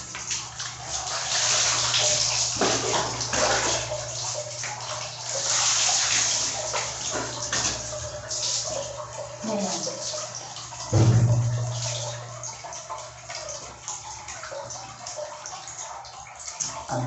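Water pours and splashes steadily in a bathroom as a dog is rinsed, a continuous loud rush with occasional sloshing shifts and a brief heavier gush near the end.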